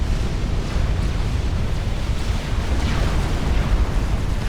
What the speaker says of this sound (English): Plum explodes in the washer barrage.